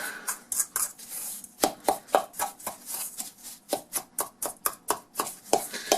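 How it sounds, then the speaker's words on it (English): Ingredients mixed with brown sugar in a bowl, giving a steady run of short scraping, tapping strokes close by, repeated rhythmically with no voices. "Quick little mix up here, get all incorporated together."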